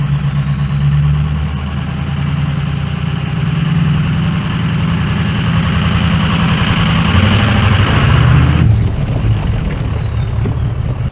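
A 2003 Ford 6.0 Power Stroke diesel truck engine idles steadily and loudly, its deep, even rumble running close by for the whole stretch, with no talking.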